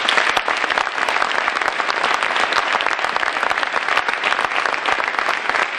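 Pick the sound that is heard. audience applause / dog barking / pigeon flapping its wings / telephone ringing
audience applause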